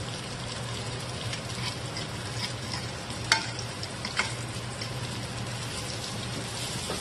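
Salmon frying in a pan gives a steady, even sizzle throughout, with a couple of sharp pops or clicks breaking through near the middle.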